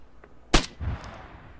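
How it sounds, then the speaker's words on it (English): A single sharp gunshot cracks out in ARMA 3 as a player fires at a vehicle's tires, followed by a dull lower thud and faint rumble. "I'm gonna shoot the tires if he doesn't get out"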